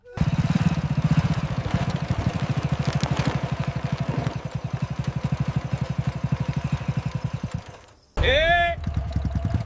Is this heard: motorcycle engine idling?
yes